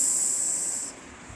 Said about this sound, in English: That sounds like a steam engine, said Edward.